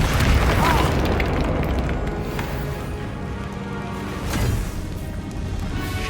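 Bombarda and Confringo spell explosions from Hogwarts Legacy bursting in heavy booming blasts, a dense low rumble that swells again near the end, with faint voices in the mix.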